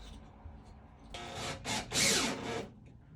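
Steel sheetrock screws being driven through slat wall pieces into a beam with a power driver, a few short grinding bursts that rise and fall, close and fairly loud.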